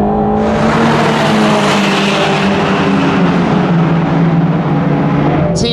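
A Mercedes-AMG GT Black Series roars hard around a US Formula 1 circuit. Its engine note is loud, sustained and close, holding a strong harmonic drone at full throttle, and the exhaust bangs are not distinct. No voices.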